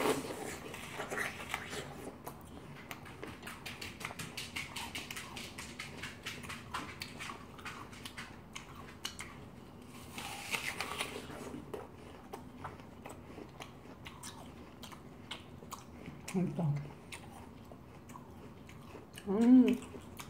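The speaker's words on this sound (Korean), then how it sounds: "좀 아삭아삭 소리, 제가 이빨이 좋잖아요. 그 소리 들려드리려고." A whole apple is bitten and chewed up close, with crisp crunches and moist chewing; the louder bites stand out near the end and faint speech comes through now and then.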